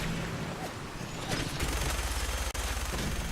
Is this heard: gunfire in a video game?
yes